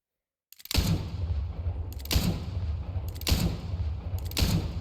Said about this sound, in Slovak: Rozhodol som sa vyskúšať druhú pištoľ, či ho aj tak nezastrelím